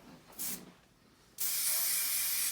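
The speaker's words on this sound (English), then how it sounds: "I've got the heavier spray now." Heavier hairspray sprayed onto a child's hair, first a short hissing burst, then after a pause a long, steady, close-up aerosol hiss that runs to the end.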